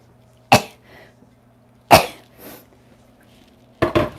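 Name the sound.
sneeze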